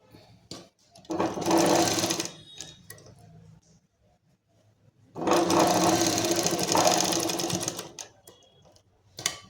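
Sewing machine stitching a kurti collar in two loud, close runs of rapid mechanical whirring, each lasting a few seconds, separated by quiet pauses with faint clicks.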